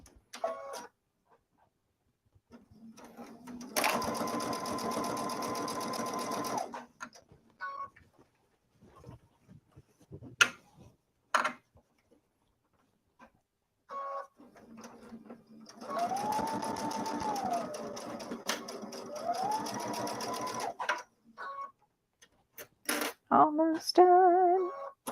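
Sewing machine stitching in two long steady runs separated by quiet stretches with short clicks and handling noises, close and fairly loud, with a voice speaking briefly in between.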